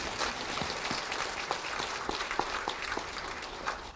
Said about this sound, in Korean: 박수 한번 더 보내주세요